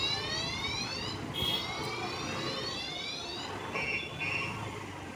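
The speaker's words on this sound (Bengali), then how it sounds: "দেখতে পাচ্ছি স্টেশনের মধ্যে ট্রেন দাঁড়িয়ে আছে" A train at a railway station heard over a steady loud rumble, with a drawn-out rising and falling whistle-like tone and brief higher beeps near the end.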